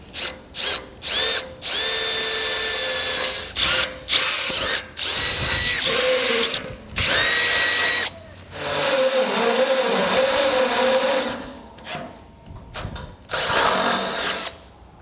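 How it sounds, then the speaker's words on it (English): A power drill bores pilot holes in a steel trailer frame for a fold-away coupler hinge, loud whining bursts starting and stopping repeatedly, with the motor pitch shifting under load. "So I'll go ahead and drill all my pilot holes, and then I'll enlarge them to the final size."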